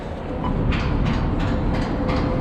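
A Sydney tram runs along its tracks with a loud, steady rumble and rhythmic clicking of the wheels over the rail joints, heard up close with no talking.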